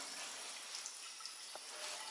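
Tap running during a plumbing test in a palazzo renovation, a faint, steady hiss of flowing water with light splashes, no voices.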